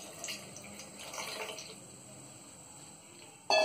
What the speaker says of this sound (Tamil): ஒரு 1/2 கிளாஸ் அளவுக்கு தண்ணி சேர்த்துக்கோங்க.